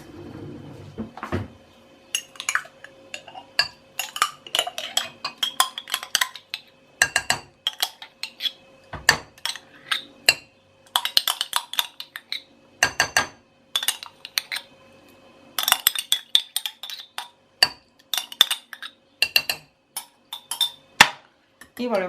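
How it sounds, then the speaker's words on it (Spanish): Eggs and yogurt whisked in a bowl for an easy sponge cake batter, with repeated sharp clinks and taps of a utensil against the bowl in an uneven, rapid rhythm, close and fairly loud. "Y volvemos a mezclar."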